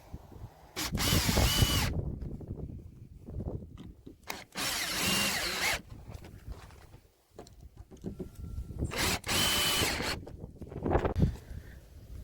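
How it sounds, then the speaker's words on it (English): Power drill driving screws through a wooden board into framing for an off-grid toilet, several short loud whirring bursts with a rising pitch, close up, separated by handling knocks and pauses. "Time to get this board screwed on, and then cut a little piece to screw on the far edge there."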